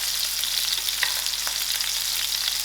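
Onions fry in a pan with a steady, even sizzle and a few faint stirring scrapes, close and continuous throughout, no voices.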